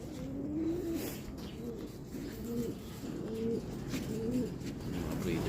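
Racing pigeons coo in repeated soft, rolling calls, several overlapping phrases close by against a low background murmur.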